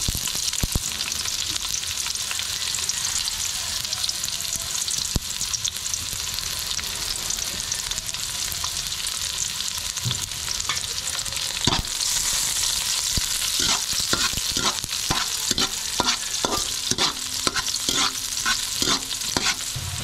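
Steady sizzling of onion frying in a pan, with occasional stirring scrapes and sharper clicks toward the end, no voices.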